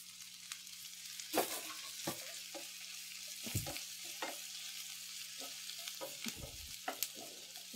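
Onions fry in a pan with chilies, curry leaves, garlic and ginger for a mackerel pulimunchi fry, a soft steady sizzle broken by intermittent clanks and scrapes of stirring, close and fairly quiet.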